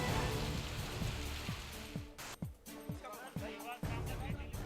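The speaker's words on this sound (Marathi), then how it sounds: "शिरपूर शहरासह तालुक्यात विविध ठिकाणी मुसळधार पाऊस" Heavy monsoon rain pours across Shirpur town, a dense steady hiss of falling water and drops on surfaces that stays loud throughout, with a few brief low thumps breaking through in the second half.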